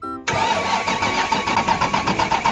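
Engine of a military 6x6 truck left stored for a long time, cranking with a brief starter whir then a rough, pulsing mid-range churn that runs steadily without catching, heard close and alone.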